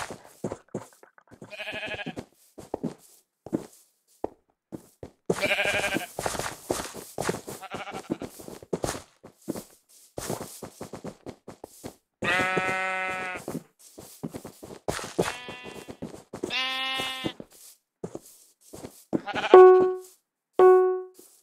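Sheep in Minecraft bleat repeatedly, several distinct bleats scattered between clicks and taps, fairly close and clear with quiet gaps between them.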